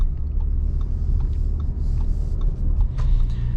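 A 2022 Audi Q7 45 Premium SUV cruising along a straight road, with steady low rumble of engine and tyre roar filling the cabin continuously, a few faint clicks and ticks on top, no voices.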